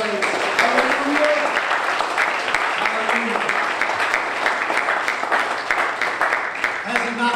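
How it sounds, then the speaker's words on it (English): A church congregation claps in praise, a steady crowd of hand claps with some cheering and scattered voices mixed in, continuing loudly throughout. "Now let's give Him a hand clap of praise."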